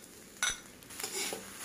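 Rice and canned fish stir-fried in a pan over medium heat: a sharp metallic clank of the utensil against the pan, then a stretch of scraping and stirring, moderately close with faint background sizzle.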